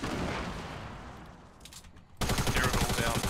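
Gunfire in the video game Fortnite, a burst of rapid shots that swells loudly near the end after a quieter, noisy stretch, with no voices over it.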